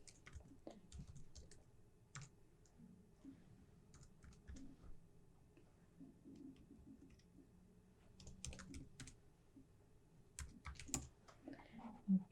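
Fingers type an email address on a computer keyboard during an online job search, with quiet, irregular key clicks coming in bursts and short pauses, close and soft, with no voices.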